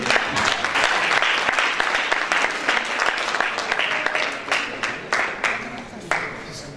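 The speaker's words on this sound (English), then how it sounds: "May we give her a round of applause," An audience gives a round of applause to an award recipient at a university chapter ceremony, loud, uneven clapping with distinct sharp individual claps, and a voice speaking over it.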